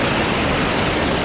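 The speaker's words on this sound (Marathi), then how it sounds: "पाणीच पाणी आहे नदीला" A rain-swollen river flows past bridges near a temple, a loud, steady rushing of water that continues without a break and without voices.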